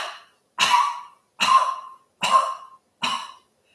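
Four sharp, forceful coughs are spaced at an even rhythm during a yoga breathing exercise, each a short, loud burst close to the mic with silence in between.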